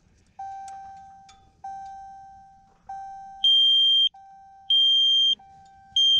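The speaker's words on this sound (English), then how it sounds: "I guess I should have showed you guys that beeping. This is what it's coming from, this little tiny thing." A small hidden tracking device found on a RAM truck emits repeated electronic beeps, a steady lower tone alternating with louder, higher-pitched chirps at regular intervals, clear and close in an otherwise quiet space.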